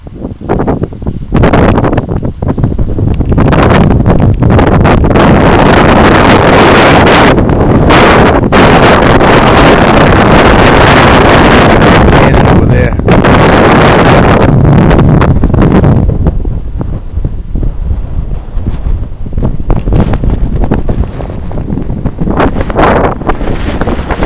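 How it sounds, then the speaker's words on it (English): Strong wind roars across a mountain summit on Franconia Ridge in autumn, buffeting the microphone with loud, continuous rumbling gusts that drown out everything else. "it's really breezy, so you're probably not going to hear much"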